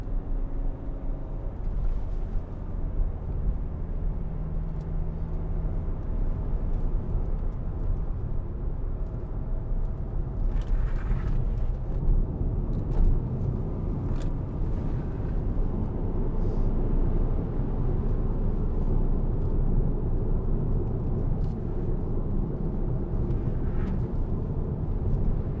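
A 2013 Hyundai ix35 2.0 CRDi 4WD diesel driving along a road, with a steady low rumble of engine and tyre noise that holds at an even level throughout.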